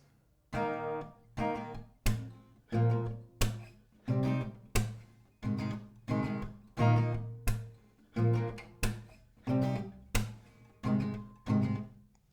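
Steady acoustic guitar strumming, one strong chord per beat in an even rhythm, each stroke ringing out before the next, close and clear with no voices.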